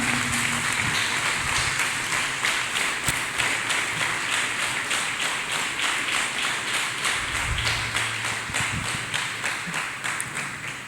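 A church congregation claps hands continuously in a steady rhythmic beat, loud and close, with faint background tones and no speech.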